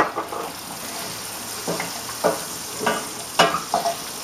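Chopped shallots and garlic tipped into a hot pan, giving a steady sizzle with a few louder bursts as the pieces land and are stirred, close and without talk.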